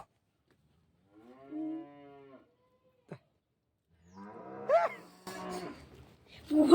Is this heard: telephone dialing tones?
no